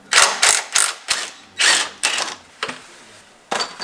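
A ratchet loosens the shock absorber bolts on a Tesla Model 3 in a run of sharp, close ratcheting bursts, about eight quick strokes with brief pauses between them.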